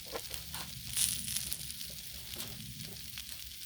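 Carrots and other vegetables sizzling on a Blackstone flat-top griddle, giving a soft, continuous hiss with faint crackles, heard close but at low volume.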